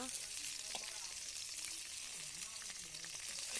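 Onions and chilies frying in hot oil in a wok, a continuous bright sizzle with crackling spatters, fairly close and steady, with faint scraping of a utensil beneath.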